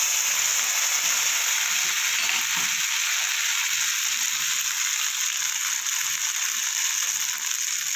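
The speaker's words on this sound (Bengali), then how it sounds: "একটু কালো জিরে ফোড়ন দিতে হবে।" Nigella seeds and crushed green chilli temper in hot oil with a loud, steady high-pitched sizzle and crackle that runs throughout, with faint low clicks and stirring underneath and no voices.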